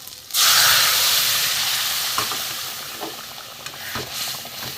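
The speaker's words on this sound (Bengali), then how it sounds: "মশলাটা ভাজা হয়ে গেছে, এবার আমি ডালটা দিয়ে দেবো।" Lentils hit hot spiced oil with a sudden loud burst of sizzling that slowly eases into a steady hiss, with a few sharp clicks of a spoon against the pan and no voices.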